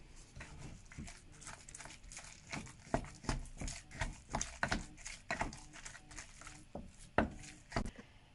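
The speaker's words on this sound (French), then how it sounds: "Donc j'ai bien mélangé la viande hachée avec tous les ingrédients" Minced meat being kneaded and mixed by hand with other ingredients for stuffed courgettes, giving a run of soft, wet squelching slaps and thuds at an irregular, fairly busy rhythm, close up with no voices.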